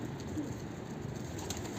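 Pigeons cooing softly in a coop, low throaty coos over a steady background hum, close and continuous.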